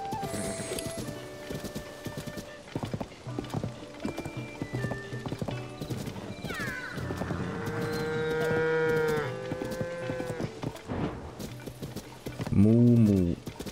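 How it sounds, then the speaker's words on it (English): Cattle mooing in the Zelda: Tears of the Kingdom game world, a low drawn-out lowing call near the end over a bed of game music, hoof clip-clop and ambient sound, with a voice speaking throughout. "Moo moo."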